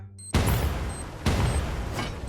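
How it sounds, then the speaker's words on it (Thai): Two loud explosive grenade booms in the video game Free Fire, in quick succession, each with a sharp onset and a rumbling tail, following a moment of near silence. "เพื่อนมันจะโดนระเบิดออกมาเพื่อนระวังนะ"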